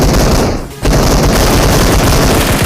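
Constant gunfire from PUBG Mobile gameplay, dense automatic bursts and booms filling the whole stretch loudly, with one brief dip in the firing near the start.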